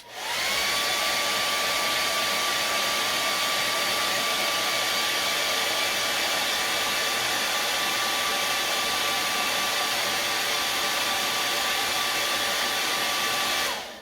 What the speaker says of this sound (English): if you're impatient, kind of like I am, a little hair dryer.